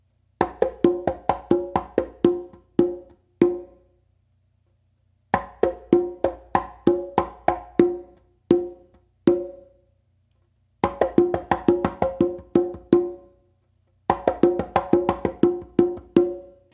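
Conga coordination exercise alternating open tones with soft ghost-note taps from the non-dominant hand: four rhythmic phrases of crisp, resonant drum hits separated by short silences, close and alone with no talking.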